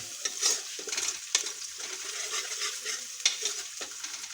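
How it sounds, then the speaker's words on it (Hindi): Garlic paste frying with onions in a pan, a steady close sizzle broken by repeated scraping stirs and a few sharp utensil knocks, no voices. "लहसुन का पेस्ट शामिल करके थोड़ा सा हम इसको भूनेंगे अच्छी तरीके से।"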